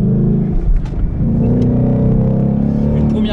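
A 2018 Ford Fiesta ST accelerates hard on a track, its engine droning loud and close with a steady rising tone while someone talks over it.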